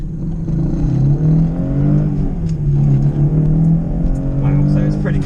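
A Subaru Legacy 3.0R Spec B estate with a 3.0-litre engine accelerates hard on a sprint course, its close engine note rising and falling through the revs while a voice talks over it.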